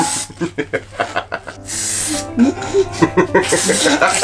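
A long hissing spray-can burst runs for a couple of seconds between bursts of excited talk and laughter.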